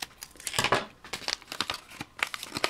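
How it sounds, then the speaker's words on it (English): A small white paper envelope being cut open by hand, giving a close run of crisp crinkling and tearing paper sounds with short bursts and pauses. "These ones just came in a small white envelope, so I'll cut it open here."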